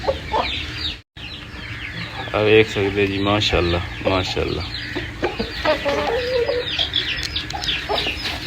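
An Aseel rooster clucks repeatedly in short harmonic bursts amid other chickens nearby, with someone talking intermittently over the calls.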